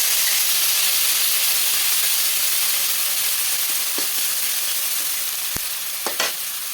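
Whole spices (cinnamon, cloves, cardamom and mace) with fried onion hit hot oil for hilsa biryani, giving a steady, close hissing sizzle throughout, with a few brief stirring clinks near the end.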